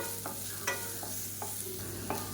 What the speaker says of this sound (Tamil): இப்போ வெங்காயம் ஓரளவுக்கு நல்லா வதங்கிடுச்சு